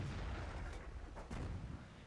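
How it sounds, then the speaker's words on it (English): Artillery fire from a 105 leFH18B2 self-propelled gun in World of Tanks, heard as a faint, muffled boom over a dense, rumbling game soundscape. "Again, firing."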